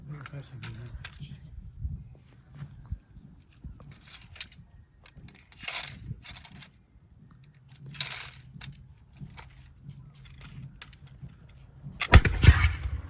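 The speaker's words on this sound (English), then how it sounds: "the loading and firing of the Brown Bess musket" A Brown Bess musket is fired at a historical demonstration near Niagara, its single loud, sharp blast arriving near the end after quieter handling sounds and faint murmuring voices.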